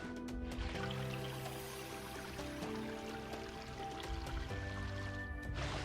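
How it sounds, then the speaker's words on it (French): Small mountain stream in the Gorges du Verdon flowing steadily, a quiet continuous trickle and babble of water with no voices. "On croise un petit ruisseau, qui forme plus bas une cascade dans un cirque de verdure."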